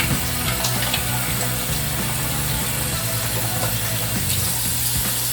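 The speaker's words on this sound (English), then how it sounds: "Alright, you're going to rinse your hands." Hands rinsed under a running tap, steady close water noise with a faint low hum underneath, continuing for several seconds without speech.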